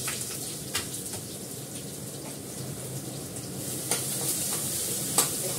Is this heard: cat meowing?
no